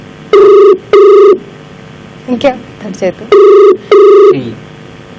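Ringback tone of an outgoing phone call repeats in loud double rings, two pairs with a pause between. Voices talk in the gap between the pairs.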